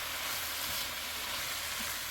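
Taco fried rice sizzles in a pan over medium-high heat, a steady close hiss of frying rice with faint stirring scrapes and no voices.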